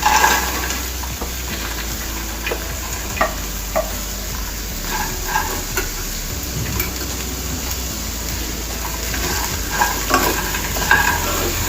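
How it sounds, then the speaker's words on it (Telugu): Fried corn kernels are stir-fried in a hot pan for crispy corn, a loud, close, steady sizzle broken by repeated scraping and clattering stirs. "1 నిమిషం పాటు ఇలా వేయించుకోవాలి"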